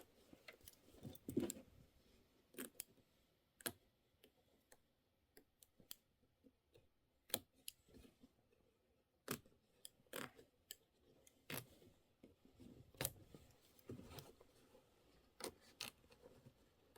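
Scissors trimming quilt fabric around satin-stitched appliqué, quiet sharp snips and clicks scattered irregularly, some in quick pairs, close but faint with no talk.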